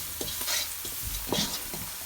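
Onion and garlic powder with a touch of salt sizzle steadily in a pan while being stirred, two brief scraping stir strokes rising over the constant close frying hiss.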